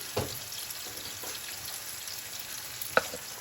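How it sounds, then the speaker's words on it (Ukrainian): Mushrooms fry in a pan for a mushroom soup, a soft, steady sizzle close by with a couple of light clicks from a utensil and one sharper tap near the end, with no voices. "Наші грибочки вже трохи підсмажилися."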